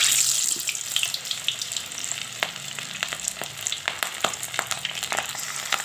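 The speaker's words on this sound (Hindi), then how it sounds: "अब हम इसको फ्राई करेंगे। ऑयल हमारा तकरीबन गर्म हो चुका है।" Marinated fish frying in hot oil, a bright continuous sizzle with crackling spits and pops scattered throughout, loud and close with no voices.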